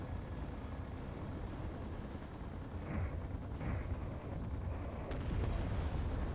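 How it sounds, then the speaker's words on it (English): Dull booms from missiles and artillery in a video game thud under a steady rumbling wash of battle noise, with a few sharper impacts toward the end. "More Factorum missiles attempting to hit me."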